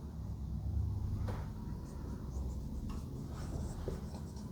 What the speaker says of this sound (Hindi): लिख दे रहा हूं मैं